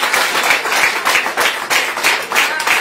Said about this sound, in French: Acclamation pour Jésus de l'église.